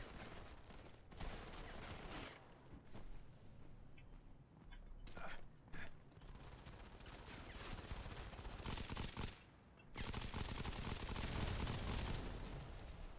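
Gunfire from Modern Combat 5 on PC during a 5-on-5 match, with bursts of automatic fire and sharp shots coming in clusters, broken by short lulls, fairly faint overall with commentary talking over it.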